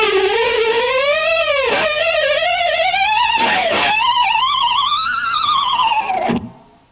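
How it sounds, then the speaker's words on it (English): Electric guitar harmonics bent down and up with a tremolo bar, a haunting, swirling wail of several high gliding tones that wobble and dive, loud and sustained, fading out at the end. "So actually what I'm doing there is a succession of 3 harmonics and using the tremolo bar in a way to bend down and up and wiggle at the same time"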